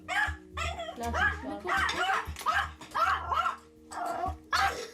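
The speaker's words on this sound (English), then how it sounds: "This dog was a nightmare." A neighbour's dog barks and growls in rapid, relentless bursts close by, mixed with whimpering yips, over a low steady hum.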